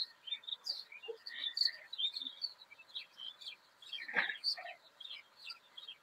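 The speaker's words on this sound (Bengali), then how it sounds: "দেখেন পাখির কোলাহল, পাখিগুলো কেমন করছে।" A clamor of small birds chirping and tweeting in quick, overlapping calls, moderately close and fairly quiet, with no talk.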